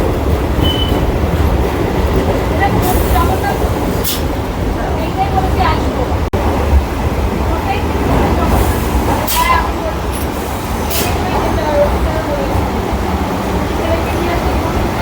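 Kolkata Circular Rail local train rolling into Khidirpur station in the evening, a steady loud rumble of carriages with occasional wheel squeals and clicks, heard from on board.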